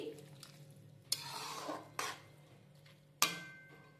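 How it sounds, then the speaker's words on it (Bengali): A spoon stirs crushed cardamom pods and bay leaves into carrot halwa in a pot, giving three distinct scraping clatters against the metal with soft sizzling between them. "তিনটে ফাটিয়ে নেওয়া এলাচ ভালো করে আমি মিশিয়ে নিচ্ছি"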